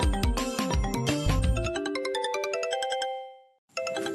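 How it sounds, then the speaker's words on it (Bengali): A mobile phone rings with a bright, repeating melodic ringtone, loud and close, before cutting out and starting again after a short pause. "তোমার ফোনটা অনেকক্ষণ থেকে বাজছে, ধরো"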